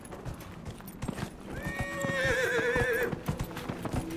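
A horse whinnies loudly midway in Dragon Age: Inquisition, a long wavering neigh, over steady clip-clopping galloping hooves that carry on throughout.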